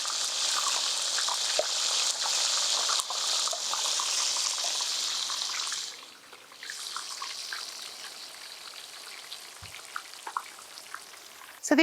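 Garlic deep frying in hot oil, a steady bright crackling sizzle with dense popping bubbles that eases partway through and continues more quietly, close and without talk.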